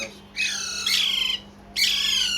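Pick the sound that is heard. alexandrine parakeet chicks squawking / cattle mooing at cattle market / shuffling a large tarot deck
alexandrine parakeet chicks squawking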